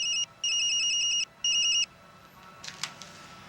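A telephone rings in three loud, even bursts of electronic trilling, each lasting under a second with short gaps between, followed by a quieter stretch with faint clicks and rustling near the end.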